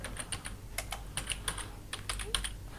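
Quick, light clicks of typing on a computer keyboard in bursts of several keystrokes with brief pauses, close and fairly quiet, no voices.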